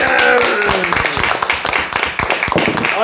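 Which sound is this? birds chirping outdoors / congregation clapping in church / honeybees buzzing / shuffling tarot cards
congregation clapping in church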